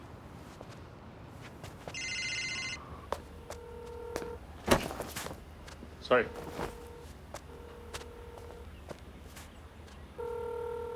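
A telephone rings in a tense indoor scene from a Singaporean TV drama, with repeated bursts of ringing tone spaced through the moment while people talk and move nearby.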